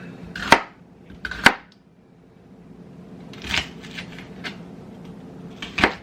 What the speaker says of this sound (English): Get this chopped up.